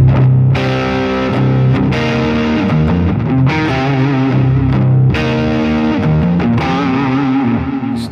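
An electric guitar runs through the overdrive effect of a Line 6 POD Express, playing loud, gritty chords and single notes with a crunchy, sustained, slightly chorused tone, without any talk.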